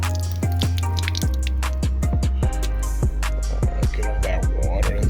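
Steady drips of water fall from inside a Chevy taillight housing one after another in an uneven rhythm, close by, over a low constant hum.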